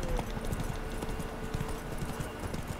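Steady clip-clop of a horse's hooves trotting at an even rhythm in The Witcher 3: Wild Hunt, with a low ambient hum underneath.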